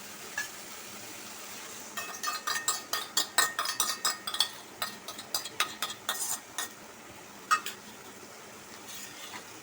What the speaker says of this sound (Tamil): மூணு முட்டையும் உடச்சி வச்சுருக்கேன் இப்போ இதை இதில் ஊற்றிக்கலாம் நல்லா கலந்துட்டு ஊற்றிக்கலாம்